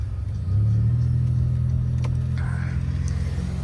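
Mercedes-Benz C300 engine revving up under acceleration, a steady loud low drone that climbs in pitch and holds close and strong for a few seconds, with no talking.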